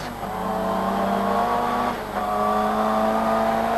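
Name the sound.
Ford Sierra RS500 Cosworth Group A race car driving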